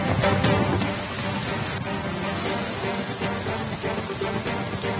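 Heavy monsoon rain falls in Assam, a dense, steady hiss of water hitting surfaces with a faint low rumble beneath, continuous and moderately loud, no speech heard.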